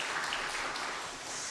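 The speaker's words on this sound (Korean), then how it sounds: "우리 하나님 앞에 영광의 박수 한번 올려주십시오." Church congregation clapping together during a Sunday service, a dense steady patter of many hands held at moderate level for a brief stretch with no talk over it.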